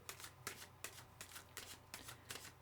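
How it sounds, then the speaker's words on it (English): A deck of tarot cards being riffled and shuffled in quick repeated bursts, about seven crisp flutters close by, with no one talking. "I'm going to have another shuffle."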